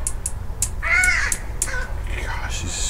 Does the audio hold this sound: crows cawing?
yes